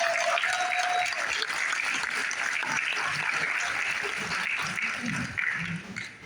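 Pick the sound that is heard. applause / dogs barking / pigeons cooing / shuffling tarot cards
applause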